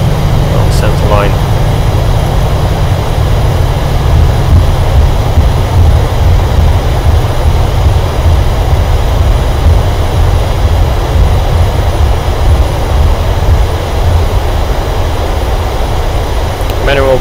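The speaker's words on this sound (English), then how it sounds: "F1 to get the engines out of reverse thrust" PMDG 737 jet engines roaring in reverse thrust during a flight simulator landing rollout, a loud steady broadband rumble that holds throughout without break.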